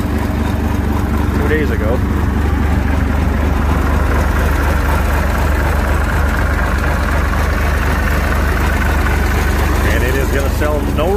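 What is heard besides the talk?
2004 Deere 250 engine running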